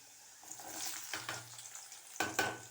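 Small onions and garlic frying in a pan give a quiet, steady sizzle with a few stirring scrapes and a couple of louder bursts near the end.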